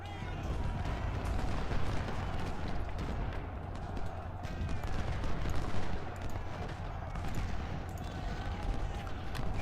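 Steady battlefield din of artillery and rifle fire from Ultimate General: Civil War at Fredericksburg, dense overlapping shots and booms rolling continuously at a loud, even level throughout.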